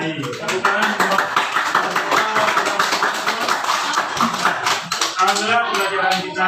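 Children in a classroom clap their hands together in a dense, steady burst of applause lasting several seconds, with voices mixed in beneath the clapping.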